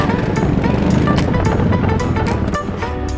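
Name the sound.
motorcycle engine running in GTA V video game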